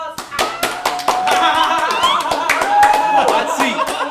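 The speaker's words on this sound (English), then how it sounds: "round of applause" Live audience clapping for a guest introduced on a podcast show, a dense burst of hand claps with scattered chuckles and voices mixed in, steady and fairly loud throughout.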